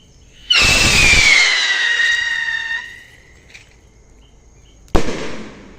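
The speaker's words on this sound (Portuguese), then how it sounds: "Vai soltar logo um foguete aqui." A firework rocket shoots up at an outdoor bonfire and barbecue night, starting with a loud whoosh and a long descending whistle that fades over about two seconds, followed later by a single sharp bang.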